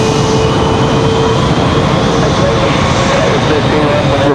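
A Republic Airways jet departs Raleigh Durham International for Orlando, its engines a dense, loud, steady roar throughout.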